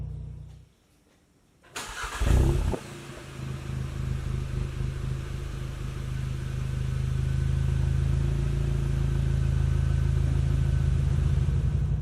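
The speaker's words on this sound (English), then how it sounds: "Here is the stock muffler start and idle." A car with its stock muffler cranks briefly after a quiet moment, catches with a loud burst, then settles into a steady low exhaust idle that holds firm and continuous for the rest.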